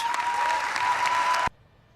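A crowd of about 12,000 claps and cheers at a D-Day 75th anniversary ceremony in a Normandy cemetery, a dense outdoor roar of applause that stops abruptly after a second and a half.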